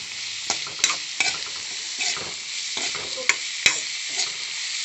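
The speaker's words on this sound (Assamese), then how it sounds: "এতিয়া নিমখ হালধি দি এতিয়া ধুনীয়াকৈ লৰাই দিম অলপ।" Chowmein made with instant noodles, salt and turmeric is stirred in a hot pan, a loud steady sizzle broken by repeated scraping strokes of the spatula, close up and without speech.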